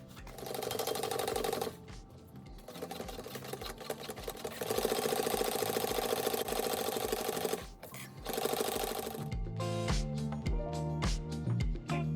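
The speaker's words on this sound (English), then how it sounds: "I'm gonna bring my other top trim, and we're gonna sew that on also." A sewing machine stitches top trim onto a handbag, running in steady fast bursts with a brief pause partway through, loud and close, with no talking.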